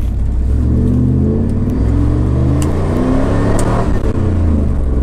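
A 1990s Ford Mustang GT V8 engine revs loudly and close, its deep rumbling note climbing and falling through repeated throttle blips over several seconds, with no talking.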